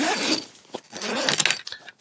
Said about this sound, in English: So let's go ahead and unzip this.